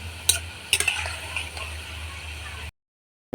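Palm fruit fritters fry in hot oil with a steady low sizzle, broken by a few sharp utensil clicks near the start before the sound cuts to silence.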